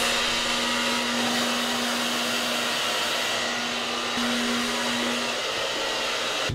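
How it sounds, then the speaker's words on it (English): A hair dryer blowing steadily while drying and styling hair, a loud continuous whirring roar with a constant hum that holds throughout with no talking. "So I try and blow dry the side parts downward, and then I try and blow dry the top parts upward"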